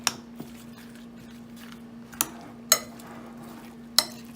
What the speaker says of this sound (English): You wanna just mix that up, you know. Make sure everything get marinated really nice.